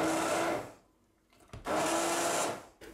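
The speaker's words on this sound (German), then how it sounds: "Und werden wir jetzt mit Stabmixer richtig schön alles pürieren." Immersion blender pureeing homemade red pepper chili sauce in two loud whirring bursts, each about half a second to a second long, separated by a quiet pause.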